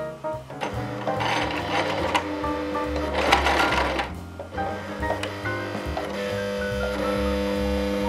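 A sewing machine stitches a unicorn plushie, running in loud close bursts of rapid mechanical whirring and clatter with a tonal hum, pausing briefly before starting again.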